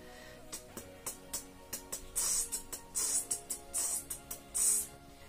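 A voice imitates hi-hat cymbals with a rapid series of crisp, hissing "ts" bursts in a steady rhythm, close and fairly quiet.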